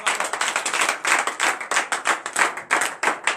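A church congregation at a morning prayer service in Benin claps hands in worship, loud rhythmic unison claps in a quick steady beat, close and continuous with no talking.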